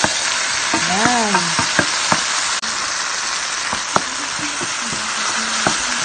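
Tomatoes sautéing in a hot pan for a home-cooked ginisa, a loud continuous crackling sizzle with occasional spatter pops and utensil clicks, close by, with a brief faint voice early on.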